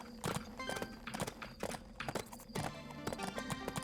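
Horse hooves clip-clop at a walking pace in the Bibi & Tina video game, a rapid series of crisp, loud hoof strikes, with a brief whinny among them and no talk.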